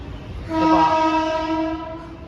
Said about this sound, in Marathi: आली लोकल